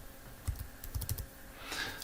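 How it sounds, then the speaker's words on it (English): Keys on a computer keyboard click softly in a few quiet taps, close but faint, with no talking. "you press the tab key from your keyboard"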